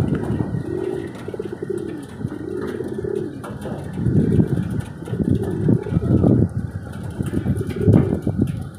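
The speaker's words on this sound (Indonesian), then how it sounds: "Nah, ini nih teman-teman merpati posnya." Homing pigeons coo in repeated low, throaty bursts, fairly close and steady, with a faint engine hum in the background.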